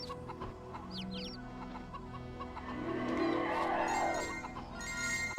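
Chickens clucking and chirping in the retro video game Mort the Chicken, a quiet mix of soft clucks and short high chirps repeating over a low game background.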